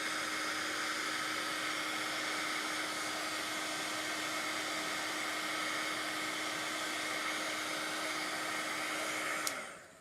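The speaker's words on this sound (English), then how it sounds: "if you're in a hurry, use your heat tool." A heat tool drying watercolor on paper blows with a steady, loud whirring hiss and a constant motor whine that holds for about nine seconds, then cuts off abruptly.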